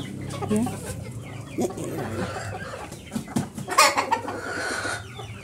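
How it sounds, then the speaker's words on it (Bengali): Several chickens, including Fayoumi chickens, cluck and squawk nearby in irregular bursts, with someone talking over them. "দেখেন কত মুরগি জায়গা, সব ধরনের মুরগি রয়েছে"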